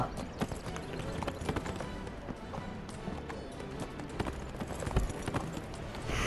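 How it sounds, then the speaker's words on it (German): Horse hooves clip-clop at a quick running pace in the video game Neverwinter, a steady stream of close taps over a busy game soundscape. "Mein majestätisches Pferd."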